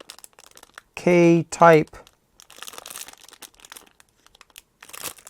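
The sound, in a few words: plastic bag crinkling as a thermocouple is taken out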